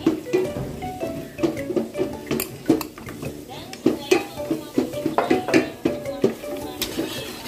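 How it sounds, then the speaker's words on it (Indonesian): A spoon stirs a custard mixture with egg yolks for clappertaart in a pot, giving irregular close scrapes and clinks of utensil against the metal pot. "Ini diaduk supaya bawahnya nanti tidak mengendap di bawah ya"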